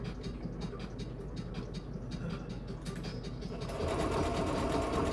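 A sewing machine runs a straight stitch around the edge of a fleece blanket, chattering in a fast, steady rhythm up close and growing slightly louder near the end.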